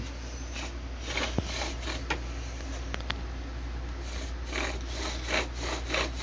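A bow drill spins on pine of an unknown species, giving a faint, rhythmic back-and-forth rasping friction that repeats in strokes under a steady low background hum.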